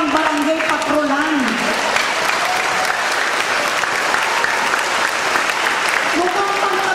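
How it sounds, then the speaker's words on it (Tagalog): A church congregation claps loudly and continuously, dense sustained applause from a crowd, with a preacher's voice speaking over it. "Mukhang pang kapitan lang yung palakpak niyo."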